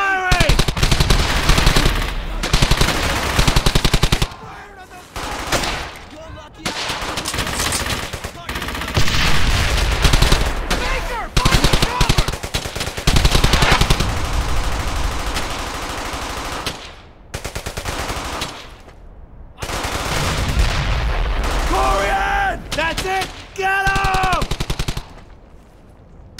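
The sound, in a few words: machine gun fire in video game Brothers in Arms: Hell's Highway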